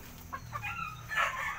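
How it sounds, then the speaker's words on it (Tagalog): Chicken clucking from inside a closed coop, several short throaty calls building to a louder squawk near the end, close and alone with no talk. "Andito ang manok namin sa loob nito."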